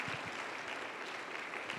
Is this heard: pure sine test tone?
no